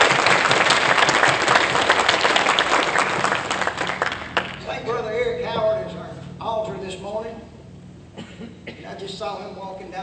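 A church congregation claps hands in praise during Sunday worship, loud and dense for about four seconds, then a voice speaks as the clapping dies away.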